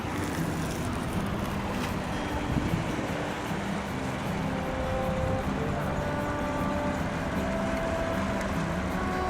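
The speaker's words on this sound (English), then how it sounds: "Lots of boaters on the river today." A boat passes on a river, its engine a steady low drone beneath constant wind buffeting the microphone, sustained and fairly loud throughout with no clear talk.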